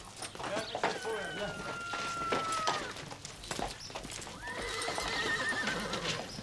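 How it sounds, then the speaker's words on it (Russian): Relay post horses in a Monte Cristo drama neigh in long, wavering whinnies, first early and again later, over busy hoof clatter and movement close by. "Перекладные лошади."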